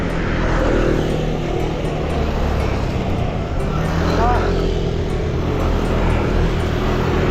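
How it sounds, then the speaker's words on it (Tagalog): Motorcycles and other vehicles in road traffic during an early-morning ride on a Rizal audax route, a steady close engine drone with passing whines throughout, under wind noise. "Dami pa rin motor."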